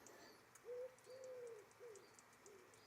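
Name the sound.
birds calling outdoors, pigeons cooing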